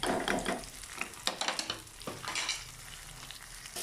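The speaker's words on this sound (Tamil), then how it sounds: "சின்ன வெங்காயம் ஒரு பத்து பதினஞ்சு வெங்காயம் எடுத்து பொடி பொடியாக நறுக்கி வச்சுருக்கேன் அதை போட்டுக்கலாம்" Finely chopped small shallots and garlic sauté in a hot pan, a continuous close sizzle with crackling bursts and stirring scrapes, no talk.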